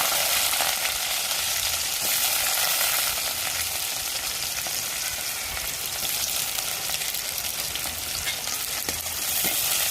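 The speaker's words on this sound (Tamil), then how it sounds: "எண்ணெய் சூடாயிருச்சு கடுகு உளுந்து போட்டுக்கிறோம் ரெண்டு கருவேப்பிலை கொடுக்குறோம் ரெண்டு பெரிய வெங்காயம் போட்டுக்கிறோம்" Mustard seeds, urad dal, curry leaves and chopped large onions fry in hot oil, making a loud, dense and continuous crackling sizzle that stays close and even throughout, with no voices.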